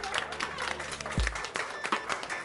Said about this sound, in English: Lots of clapping for that.